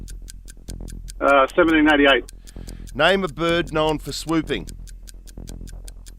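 Steady quiz-show clock ticks at an even rhythm all the way through, running under a host's and contestant's quick back-and-forth questions and answers.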